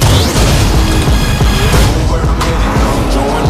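A tank crashes through in a movie trailer, a loud dense barrage of crunching impacts and heavy rumble with sharp smashes, all at full volume.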